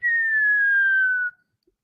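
A voice whistles in imitation of a slide whistle: one steady, loud, clear tone that glides slowly downward for about a second and a quarter, then stops abruptly, with no talking.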